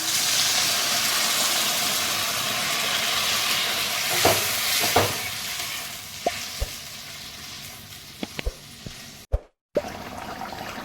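Cauliflower, potato and rohu fish curry broth bubbling in a pan at home, a steady close sizzling and simmering hiss with a few sharp clinks and taps of a utensil toward the end.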